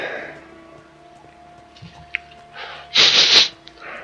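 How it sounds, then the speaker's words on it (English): A single loud, breathy sneeze bursts out after a few quiet moments of faint background sound. "I feel like sneezing."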